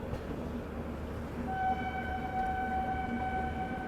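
A Lucknow–Raipur Garib Rath Express pulls out of the station, a steady low rolling rumble from the rails, with a sustained horn-like tone rising partway through and holding to the end.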